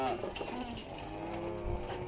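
Calves mooing in a cattle yard during a round-up for dosing, a low lowing call under steady background noise, fairly faint and distant.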